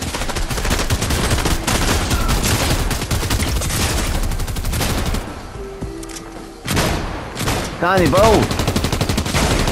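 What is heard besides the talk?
gunfire from a video game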